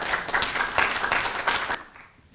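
A forum audience gives a round of applause, with individual claps audible in a moderately sized crowd, steady for about two seconds before fading out quickly.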